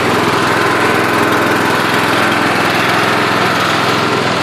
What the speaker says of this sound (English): Great running little lawnmower.